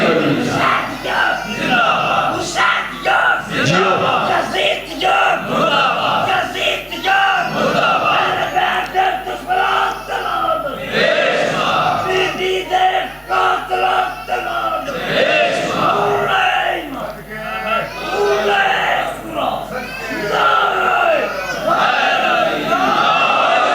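A crowd at a majlis commemorating the martyrdom of Imam Musa Kazim chants religious slogans in loud, rhythmic unison, with repeated swelling shouts close by that fill the space for the whole stretch.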